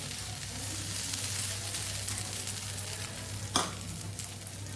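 Small bottle gourd chillas sizzle and fry steadily in a pan over a medium gas flame, with a light scrape or stir partway through.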